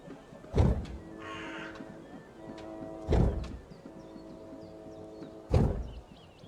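A bird caws in the Dreamfall Chapters video game: three harsh, loud calls spaced a few seconds apart, rising over a quiet, steady backdrop of sustained game music or ambience.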